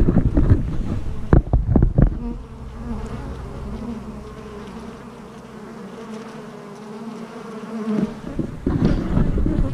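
Honey bees buzz around an outdoor hive, a steady droning swarm close to the microphone with gusts of wind noise and brief handling bumps at the start and end.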